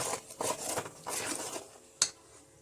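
A spoon works through chicken pickle in a pan, making a few rough scraping strokes and then a sharp metallic clink near the end, close and fairly quiet.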